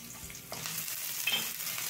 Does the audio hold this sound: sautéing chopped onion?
yes